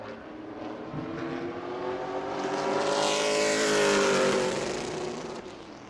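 A Pro Late Model race car at New Smyrna Speedway comes off turn four, its engine note rising to a loud, high roar as it passes near and then fades slightly, with no talk over it.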